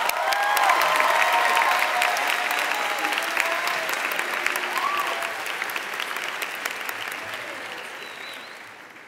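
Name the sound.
audience applause for class president at graduation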